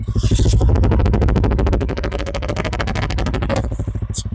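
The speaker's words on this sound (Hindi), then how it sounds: "बाकी आपको इसका एग्जॉस्ट नोट एक बार मैं सुना देता हूँ।" TVS Ronin motorcycle exhaust note up close, a loud rapid rumbling pulse as the engine is revved, rising and easing with a sharp click near the end.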